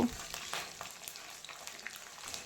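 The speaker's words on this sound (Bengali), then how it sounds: "মিডিয়াম ফ্লেমে দশ বারো সেকেন্ডের মতো ভেজে নেব" Whole spices, dried chili, bay leaves and garlic frying in oil over a medium flame, a soft brief crackling sizzle with light scrapes, fairly faint and without talk.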